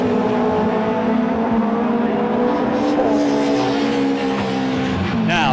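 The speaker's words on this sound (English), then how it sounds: "2 BMWs chasing the Mitsubishi. Down to Redgate, absolutely together." Two BMW touring cars chase a Mitsubishi down to Redgate at Donington Park in the 1990 British Touring Car Championship, a loud sustained roar of racing engines, steady and close throughout.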